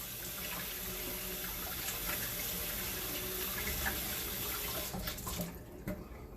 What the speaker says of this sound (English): So I'm going to rinse off my hands really quick.